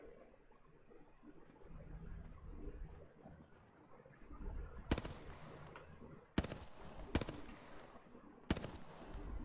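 Gunfire in the video game Apex Legends: after a stretch of low rumbling ambience, four sharp, loud single shots ring out at irregular intervals over the last few seconds.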